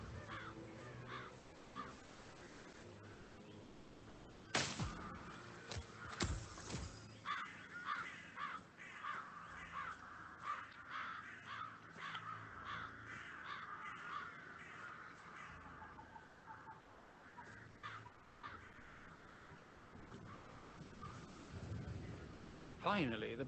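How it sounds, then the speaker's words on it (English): Crows caw repeatedly in the Hitman 3 mission A Death in the Family, with sharp calls scattered across a busy game soundscape and some speech-like voices mixed in. "Finally, the birds are gone."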